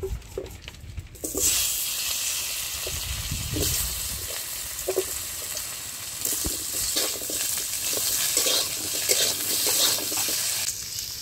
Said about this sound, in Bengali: মাছ ভাজা তেলের মধ্যে আর আলু ভেজে নেবো।